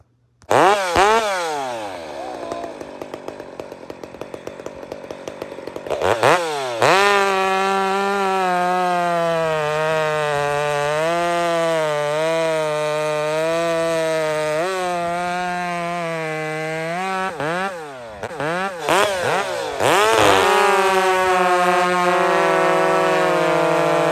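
A chainsaw fitted with aftermarket mufflers roars close by, its engine note climbing and falling through sharp throttle blips and long sustained high revs as it cuts, loud and uninterrupted with no talk.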